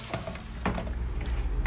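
Rigatoni with leeks and sausage is stirred in a pan, giving soft scraping and a light continuous sizzle with a few clinks, near and steady throughout, with no talking.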